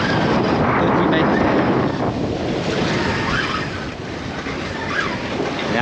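Loud, steady wind and rolling sea surge wash around a sailboat whose wind has freshened quickly and whose sea has built from flat to about a metre, roaring close to the microphone with no talking.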